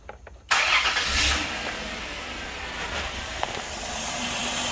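A Dodge Caravan, newly fitted with a replacement camshaft sensor after a P0320 code, cranks briefly and catches, then settles into a steady, close running engine sound with a faint hiss.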